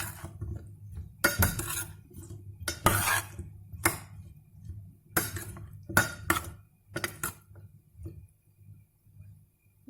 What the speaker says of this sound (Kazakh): Және жақсылап араластырамыз.